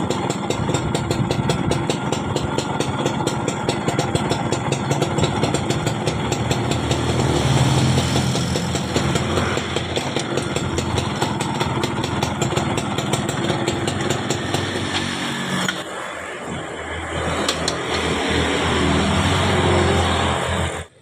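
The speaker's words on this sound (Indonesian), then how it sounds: "Ini tidak mau mati. Kunci kontak dalam posisi off." A Yamaha Fiz R motorcycle engine idles continuously, still running even with the ignition key switched off; a steady, rapid putter with a brief dip partway before it settles back into the same even idle.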